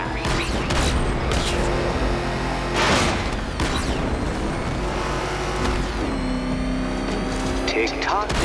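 In Batman: Arkham Knight, the Batmobile engine roars continuously as the car is driven, loud and close, with bursts of gunfire, booms and mechanical clatter over it and a voice talking at points.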